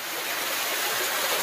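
A waterfall near a Naga village roars as a steady, dense rush of falling water, close and loud, with no voices over it.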